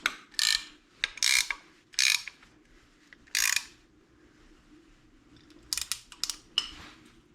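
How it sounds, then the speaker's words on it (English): Ratchet wrench tightening brackets on a Muncie or Saginaw three-speed floor shifter, several short bursts of rapid clicking separated by pauses, close and fairly loud. "I want to start tightening up these brackets here"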